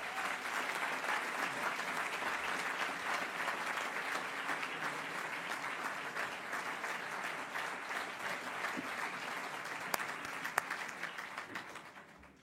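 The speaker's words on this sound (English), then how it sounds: "a warm applause for Francisco Urquijo Otero" Sustained audience applause at a school ceremony, a steady dense clapping that holds for about twelve seconds before tapering off at the end, with no voices over it.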